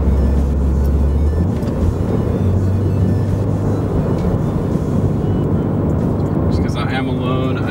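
A Subaru WRX drives a winding mountain road, its engine and road noise a steady, loud drone throughout, with a brief gear or pitch change early on, heard from inside the car.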